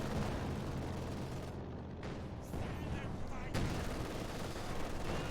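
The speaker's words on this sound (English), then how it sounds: "Let's have a look at this IL-2 strafing run, see what we can get." An IL-2 ground-attack aircraft strafes targets in a WWII strategy game, sending dense rattling bursts of gunfire and booming impacts through a continuous din of battle.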